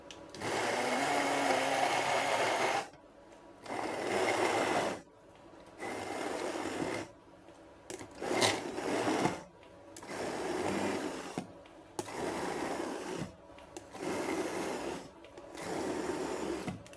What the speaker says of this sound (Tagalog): Hand blender.